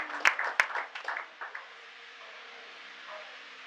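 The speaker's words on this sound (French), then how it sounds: "sous nos applaudissements bien sûr" Audience clapping at a French-language certificate ceremony closing a capacity-building workshop, a burst of applause with a few sharp claps that thins out and fades within about two seconds, leaving quiet room tone.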